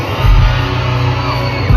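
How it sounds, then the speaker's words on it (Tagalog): Crowd at an outdoor fiesta concert in Barangay Balele shouting and cheering, a loud, continuous roar of many voices with whoops and yells swelling near the start and end. "Pwede ko bang marinig ang lahat ng poging magaganda na sumisigaw?"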